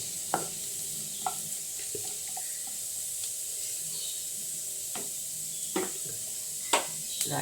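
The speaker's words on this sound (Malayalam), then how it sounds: "ഇഞ്ചി ഇട്ട് കൊടുത്തിട്ട് എല്ലാം സെപ്പറേറ്റ് വറുത്ത് കോരണേ" Strips of ginger cut lengthwise frying in hot oil for a beef pickle, a steady soft sizzle and hiss with occasional brief stirring clinks and scrapes, fairly quiet and close, with no talking.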